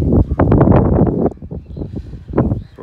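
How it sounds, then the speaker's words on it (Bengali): Strong wind buffets a microphone outdoors during a bicycle ride in rainy weather, a loud continuous rumbling roar that surges heavily for the first second and a half, eases, then gusts again near the end. "প্রচণ্ড বাতাস হচ্ছে"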